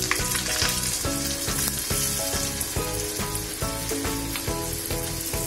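Mustard seeds sizzle with one red and one green chili in hot tempering oil for moong usal. The frying is close and steady, with rapid rhythmic crackles and popping and no voices.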